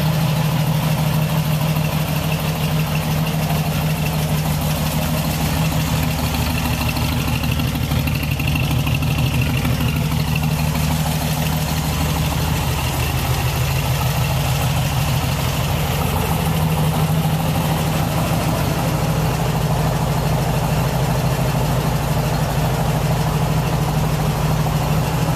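A 1957 Becks Speedster engine idles steadily and close up, a continuous low rumble with an even throb that never changes pace for the whole stretch.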